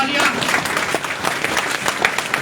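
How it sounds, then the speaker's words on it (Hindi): A seminar crowd in Jodhpur gives loud, sustained applause for an award-winning guest named Dhanraj. The dense clapping runs throughout, with a voice speaking over it. "एक बार जोरदार तालियां"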